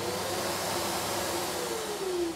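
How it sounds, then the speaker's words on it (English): A steady, loud whooshing roar of a pantorouter's vacuum extraction system running continuously underneath, with a faint whine drifting slightly in pitch. "Now what you hear is the vacuum system underneath, the extraction system."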